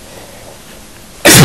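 A single loud, sharp sneeze bursts out close by at the very end, after a stretch of near silence.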